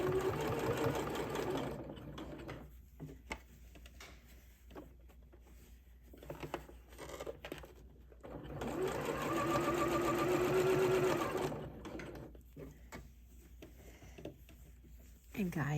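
A home sewing machine stitches a seam along a garment facing, whirring in two sustained runs that start and stop, with quieter pauses and light handling noises between them.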